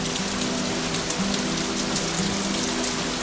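Steady rain falling on a surface, a dense continuous hiss of drops throughout with no break, fairly loud and with no talk.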